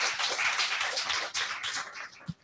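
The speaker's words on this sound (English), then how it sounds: "Can we have a round of applause?" An audience claps for speakers at an evening library talk, giving steady, dense applause that fades near the end.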